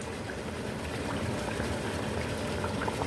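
Chicken simmers at a steady boil in a pot, a continuous bubbling, gurgling wash of liquid that stays even and close throughout with no voices.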